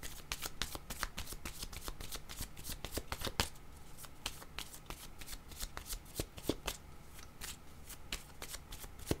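Tarot cards are shuffled quickly and steadily for a reading, a dense run of soft riffling flaps and taps lasting the whole stretch, close and fairly quiet with no talking.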